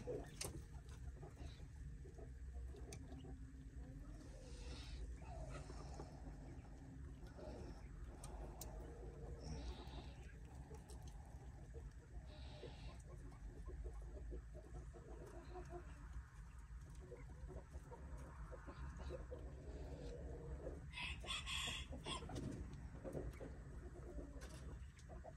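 Young quail chicks, one of ten bought from a pet shop, peep in small scattered chirps over a steady low background hum, with a brief brighter burst of calls near the end.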